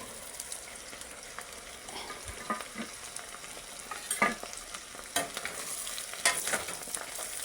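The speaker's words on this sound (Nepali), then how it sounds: "तातेको तेलमा मैले खुर्सानी राखेँ। अनि मैले यो अदुवा राख्दैछु," Chili and long strips of ginger fry quietly in hot oil for a Nepali amata pickle, a soft steady sizzle broken by scattered stirring scrapes and light clicks, no speech.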